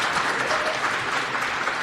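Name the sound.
applause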